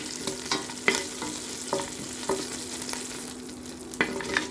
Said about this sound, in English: With the same pot, let's fry our prepared ingredients.